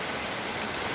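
Heavy rain pours down during flooding in Metro Manila, a steady, dense hiss of falling water that stays loud and unbroken throughout, with no voices.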